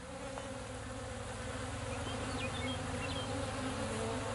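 Honey bees buzz steadily around freshly built comb during a cut-out removal in Rosalia, a dense continuous drone of many insects close by, with a few individual bees flying past.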